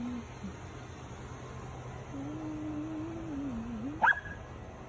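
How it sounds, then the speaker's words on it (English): A dog at night lets out one short sharp bark near the end, preceded by a faint drawn-out whine, over a low steady background hum. "What you barking at, bud?"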